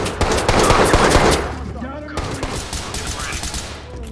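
Rapid bursts of automatic gunfire in the video game Ready or Not dominate the first half, then sporadic shots continue under someone talking in Hindi.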